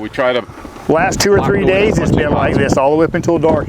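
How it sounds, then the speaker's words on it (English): Strong wind over a lake on a fall bass-fishing trip roars and buffets the microphone as a steady rushing noise beneath someone talking close by. "It is a very windy day."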